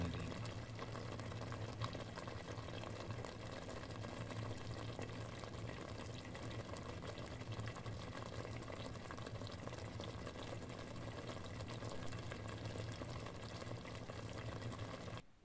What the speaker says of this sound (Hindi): सिमर होने देंगे।